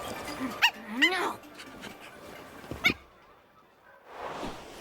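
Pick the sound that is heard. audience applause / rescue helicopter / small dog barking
small dog barking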